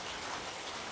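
Rain falls outside, a soft, steady hiss of drops with no voices, lasting about a second.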